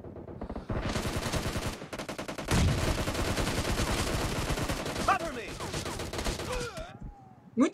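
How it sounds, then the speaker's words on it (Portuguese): Rapid bursts of automatic gunfire from PUBG Mobile, dense and loud, firing almost continuously for several seconds with brief gaps, in a laggy game session. "E olha como é que tá saindo o tiro da minha arma"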